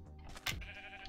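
A Minecraft sheep bleats once, short and faint, in a quiet village game scene.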